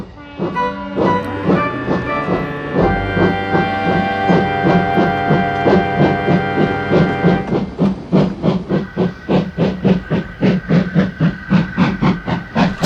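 Two steam tank engines chuff rhythmically as they pull a train of trucks, with steady hissing and layered whistle-like tones, loud and close, the puffs growing sharper and quicker toward the end.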